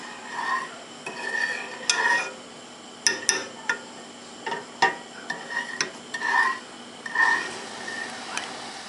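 A coffee and sugar mixture heats in a pan for chocolate mousse as a spoon or whisk scrapes and clinks against the pan in irregular bursts, fairly faint and close, with no talking.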